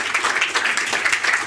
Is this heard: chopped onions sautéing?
no